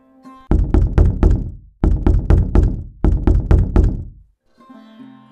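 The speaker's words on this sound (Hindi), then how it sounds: "इसलिए उसने मंदिर के कपाट खटखटाए" Three rapid bursts of heavy knocking on temple doors, each a run of four or five loud thuds, separated by short pauses, with quiet music before and after.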